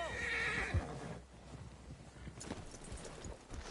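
A horse in the video game Red Dead Redemption 2 gives a sharp, loud neigh at the start, followed by a quieter low background rumble and scattered clip-clopping hooves.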